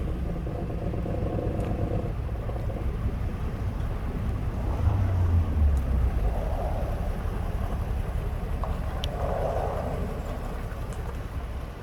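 A Dodge D150 pickup truck idles low and steady in a yard for about twelve seconds, its rumble rising briefly partway through, with light wind noise and no talk.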